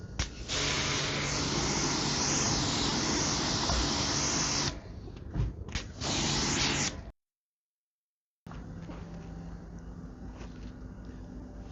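Long hissing bursts of chrome spray paint from an aerosol can onto a wheel, close and loud, broken by short pauses and a brief silence before spraying resumes.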